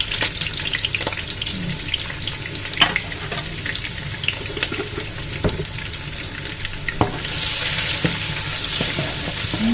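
Onion and garlic sautéing in a pan for pancit canton, a steady sizzle with scattered sharp scrapes and knocks of a utensil against the pan, close and without talk.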